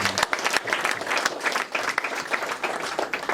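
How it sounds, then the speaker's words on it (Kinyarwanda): A church congregation at a conference claps together in a steady, dense round of applause with some crowd noise, filling the room for a few seconds. "Dukomere Imana amashyi kubwako"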